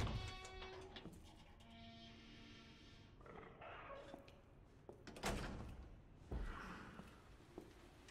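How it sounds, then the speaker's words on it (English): Doors opening in the video game Resident Evil 2 Remake, heard as faint thuds, creaks and scrapes spread through several seconds of quiet in-game ambience. "I don't like that he's just opening doors around me."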